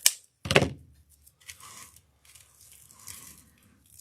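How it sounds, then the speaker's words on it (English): Cutters snip the excess end off a zip tie on a red rose deco mesh wreath with a sharp close click, followed by soft crinkling and rustling of the mesh, with no talking. "Go ahead and snip the end off."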